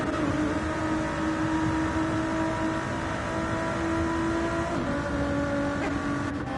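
A GR3 race car engine in a racing video game on the Nürburgring circuit, a steady droning high-revving tone held throughout with slight shifts, no talk over it.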